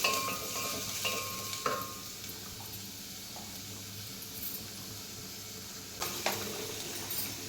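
Onions frying in a pan for hotel-style radish sambar, with a continuous sizzle broken by a few clinks and scrapes of a spoon stirring, close and without speech.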